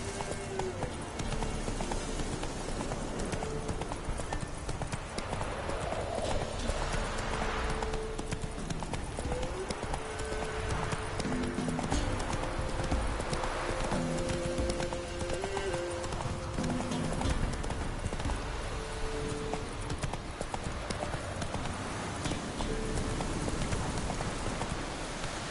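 Horse hooves clip-clop steadily at a gallop in a PS4 video game, a continuous rhythmic pounding with occasional whinnies over ambient game sound, with a voice urging the horse on at times.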